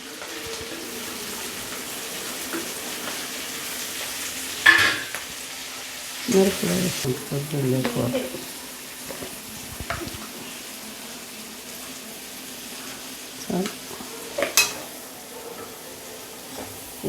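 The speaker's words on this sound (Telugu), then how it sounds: "ఎర్రగడ్డ పచ్చిమిర్చి కరింపాకు అన్నీ వేసేసి బాగా వేయించుకోవాలి" Mutton keema frying in a pan with onions, green chillies and curry leaves, a steady low sizzle with a few louder scraping stirs and clinks partway through.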